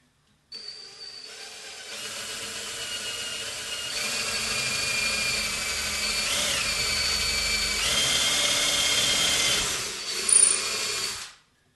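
Power drill boring a starter hole through a wooden board, inside a marked circle, before a jigsaw cut; a steady close whir with pitch that rises and shifts as the bit bites, running about eleven seconds before stopping abruptly.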